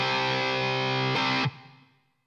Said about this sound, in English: here's what my guitar sounds like